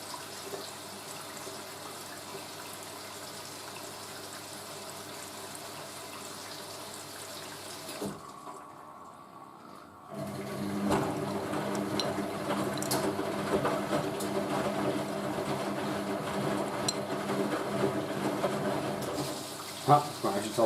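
A Hoover A3060 washing machine fills with water for its second rinse, a steady hiss of inflowing water that briefly drops away near eight seconds, then returns louder with some sloshing and a sharp click near the end.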